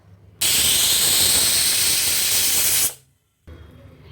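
Steam hisses loudly and steadily from a pressure cooker for about two and a half seconds, then cuts off abruptly, followed by a short silence and low background noise.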